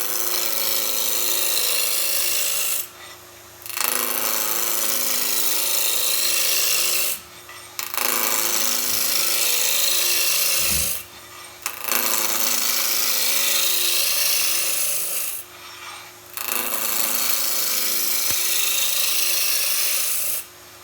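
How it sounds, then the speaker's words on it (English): A roughing gouge cuts a square blank to round on a wood lathe spinning around 1800 rpm, a loud continuous rasping drone in long passes of a few seconds each, with short quiet breaks between cuts. "So we're just going to take it from square to round using the roughing gouge."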